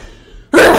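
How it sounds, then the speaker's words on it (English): A single loud, close sneeze bursts out suddenly after a moment of near-silence, with no talking around it. "Gotta sneeze."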